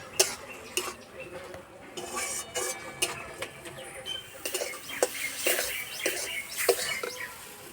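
Boiled ridge gourd stirred in a pan to dry off its liquid, with repeated light metallic clinks and scrapes of the spoon against the pan over a soft background, fairly quiet.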